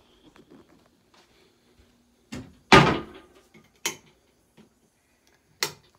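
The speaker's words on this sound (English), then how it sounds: "Left the cabinet door open." Cabinet door being handled in a quiet room: a few sharp knocks and thuds, one louder clattering bang, then scattered clicks spaced out with silence between.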